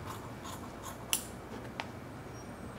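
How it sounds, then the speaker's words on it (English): Scissors trim the facing fabric of a sewn coat with a few quiet, crisp snips spaced about half a second apart, one sharper cut standing out, in an otherwise quiet room. "I'm gonna trim my facing down"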